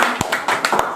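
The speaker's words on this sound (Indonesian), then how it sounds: "Beri tepuk tangan dulu" Children in an Indonesian classroom clap for a group about to present, giving a few loud, close, uneven claps in quick succession.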